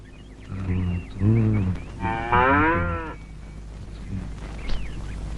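Cattle mooing loudly and close by at a village farm, several drawn-out harmonic calls in a row, one rising and wavering, with faint bird chirps behind and no talk.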